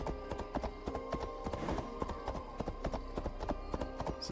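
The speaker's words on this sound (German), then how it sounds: "Ja, ein sportliches Pferd." Horse hooves clip-clop steadily in Assassin's Creed Valhalla, a brisk, even rhythm of close, distinct hoofbeats running throughout with no talk over it.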